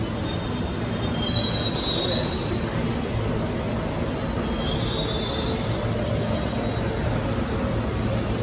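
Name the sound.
Ahmedabad metro train running, wheels squealing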